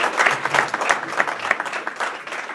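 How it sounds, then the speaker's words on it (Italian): An audience at a Friulian language and culture course certificate ceremony breaks into applause, a dense, steady patter of many hands clapping close by for the full stretch. "Un applauso a Paolo Cantaruta"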